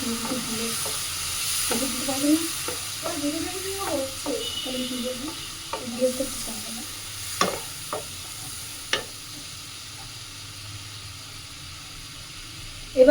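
Red amaranth leaves frying in a pan while being stirred, a soft steady sizzle under repeated scraping and stirring strokes, with a sharp clatter at the end.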